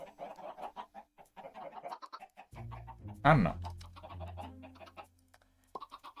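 Minecraft chickens clucking in short, scattered bursts between stretches of someone talking, with a louder flutter in the middle and a low steady hum running underneath.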